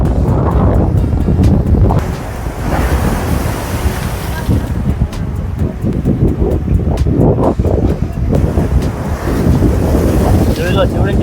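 Sea waves break along the shore at Marine Lines, Mumbai, a continuous loud surge mixed with heavy wind buffeting the microphone.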